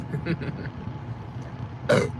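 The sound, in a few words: burp after drinking soda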